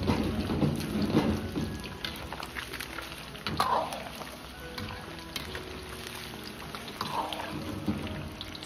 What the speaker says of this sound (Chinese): 继续保持中火炸至两分钟左右，先把鱼肉炸熟炸透。